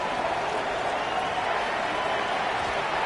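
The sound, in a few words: stadium crowd cheering after a field goal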